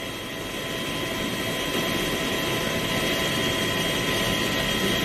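Steady aerial engine drone from a helicopter hovering above a bike race on an open road in the Tour of California, continuous and moderately loud with a broad rushing wash and no speech.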